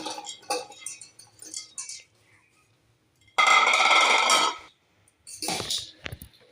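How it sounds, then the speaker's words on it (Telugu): Bitter gourd pieces tumble into a bowl of spices for a Telugu-style bitter gourd pickle, making a dense burst of clattering, rustling noise in the middle. Lighter clinks and scrapes of mixing come before and after it, with no talk. "ఇప్పుడు కాకరకాయ ముక్కలు దీనిలో వేసుకుందాం"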